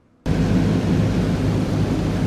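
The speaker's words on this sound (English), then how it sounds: "In the noisy aircraft, everything is about the same it was 80 years ago." A loud, steady broadband roar fills the cabin of a WWII-era bomber in flight. It starts abruptly after a brief quiet moment and then holds constant.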